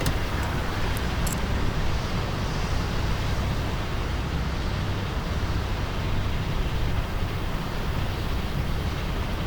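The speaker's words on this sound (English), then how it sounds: "Man, just listen to that wind." Wind rushing around a Carbon Cub STOL bush plane parked on the ground in Microsoft Flight Simulator 2024, a steady, dense roar that holds at constant loudness from start to end with no talk.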